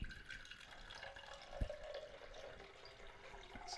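Water is poured into a coffee cupping vessel for an Ethiopian coffee, a soft, continuous trickle with a few faint drips, quiet and close with no talk.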